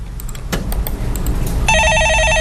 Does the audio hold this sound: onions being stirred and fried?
no